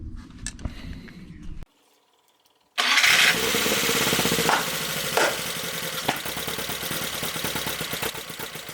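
An MK Indy kit car engine cranks briefly, goes quiet, then catches and fires into a loud, rough idle that settles into a steady mechanical rumble, close by and with no voices.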